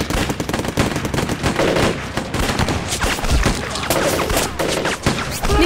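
Sustained burst of gunfire from a war drama set during the anti-Japanese resistance, with dense rapid shots and volleys filling the whole stretch, loud and close.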